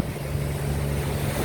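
A chartered sailboat motoring under engine power toward Norman Island in the British Virgin Islands, heard as a steady low engine drone and rumble with wind and water noise, constant and close throughout.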